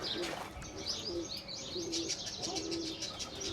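Pigeons coo repeatedly in soft, rolling phrases with a few chirps mixed in, close by and steady, while a child kicks at the birds; no one speaks.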